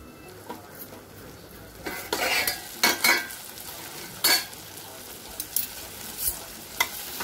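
Potato and cluster bean curry is stirred in a hot pan, a low sizzle under repeated loud scrapes of a spoon against the metal, coming in uneven bursts, with no voice.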